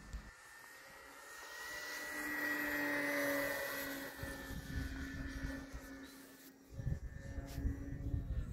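Red Dynam Waco RC model biplane in flight, its small electric motor giving a steady whine that swells as the plane passes nearer, then fades and shifts pitch as it flies off, heard alone outdoors.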